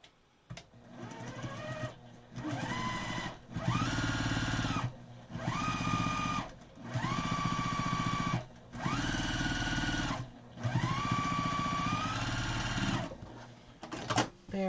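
A sewing machine stitches quilt-as-you-go quilt pieces in several whirring runs of a second or two each, separated by short pauses, close and fairly loud.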